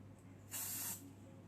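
Hard-hold hairspray sprayed onto hair during a styling session gives a single short, bright hiss lasting under half a second, clear but soft against a quiet room hum.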